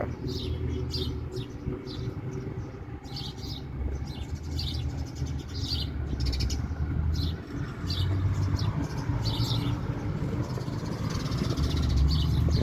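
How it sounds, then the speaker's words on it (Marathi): Sparrows chirp at a water dish in short, bright bursts that come and go throughout, over a steady low rumble of engine hum in the background. "आली बघा चिमणी आता."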